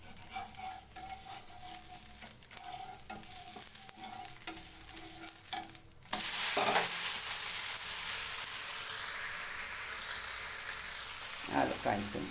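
A dosa cooks on a hot pan, a soft steady sizzle that suddenly swells into a louder, brighter hiss midway, with a few faint clinks of utensils near the end.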